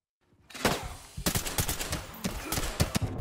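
Rapid bursts of gunfire at a firing range in the Ready Or Not video game, sharp repeated shots starting after a moment of silence, close and loud.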